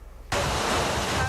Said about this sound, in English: the water rushing down